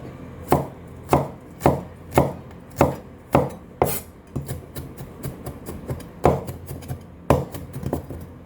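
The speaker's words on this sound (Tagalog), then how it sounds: "Remove the skin and chop." A kitchen knife chops peeled garlic for a spaghetti and veggie meat sauce, about fifteen crisp, close knocks on the board in a steady rhythm with short pauses and no talking.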